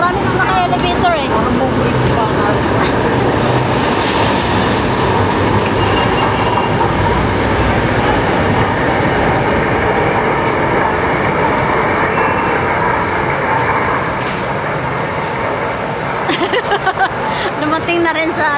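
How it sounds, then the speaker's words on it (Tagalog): A light rail train rolls into Ninoy Aquino Avenue LRT station in Manila with a loud, continuous rumble and rattling wheels, slowing toward a stop, while people chatter in the background. "Dumating na rin sa Ninoy Aquino LRT."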